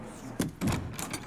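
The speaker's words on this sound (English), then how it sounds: "Open the door." Door opening in the video game Assassin's Creed Unity, a short muffled thump followed by a heavier creaking swing and a faint closing knock, close and brief.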